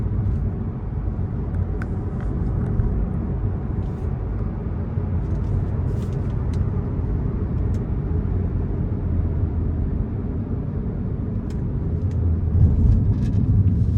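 Turbocharged 2.5-litre engine of a 2022 Mazda 3 hatchback accelerating in sport mode, a steady low in-cabin rumble and drone that holds throughout and swells slightly near the end.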